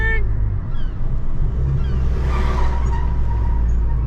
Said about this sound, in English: Now if you can hear that turbo, gorgeous.